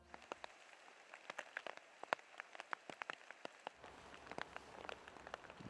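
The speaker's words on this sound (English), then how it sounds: "A little bit of rain." Light rain patters faintly onto a field in western Oregon, scattered soft drops ticking irregularly in a quiet outdoor setting with no voices.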